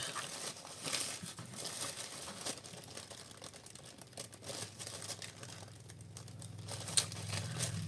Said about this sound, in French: Je vais essayer de l'ouvrir sans déchirer.